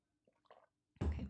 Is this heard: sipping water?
yes